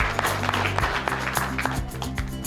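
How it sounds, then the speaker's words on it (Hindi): Audience applause at a business conference in Pokhara, a steady dense patter of clapping hands under loud music with a thumping beat. "यहाँले तालीले सम्मान गर्नुहोला"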